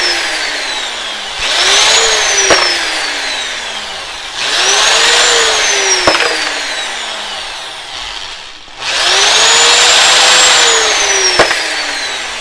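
A case trimmer trims and chamfers brass cartridge cases in three separate cycles. Each brings a loud, close, rising-then-falling motorized whir with metallic cutting, with short pauses between pieces.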